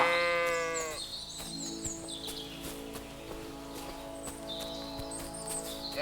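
Harmonic sheep bleats in the video game Kingdom Come: Deliverance II ring out over a steady synthetic background hum with light clip-clop steps, several calls spread through the stretch at moderate loudness.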